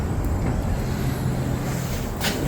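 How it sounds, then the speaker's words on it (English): A gas burner roars steadily beneath a homemade powder coating oven being heated up, a continuous low, dense rush with no break or change in level. "A gas burner underneath."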